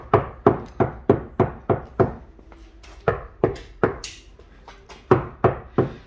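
A steady series of hollow knocks on a sound-insulated Mercedes CLK fender, rapped by hand in quick runs with a short slower stretch in the middle, close and clear.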